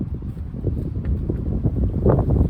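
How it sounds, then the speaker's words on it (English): A huge gust of wind rushing past outdoors, a dense low roar buffeting the microphone with uneven swells throughout, loud and close, no voices. "there's a huge gust of wind passing us"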